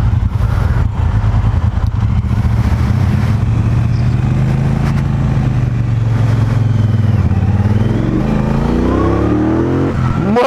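Triumph Bonneville Bobber motorcycle being ridden, a loud continuous engine drone with rising and falling revs as it accelerates, close and without talk.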